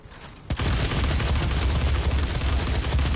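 Gunfire in the Doom open beta erupts after a brief quiet moment into a loud, continuous barrage of rapid shots and impacts that fills the rest of the moment without talk.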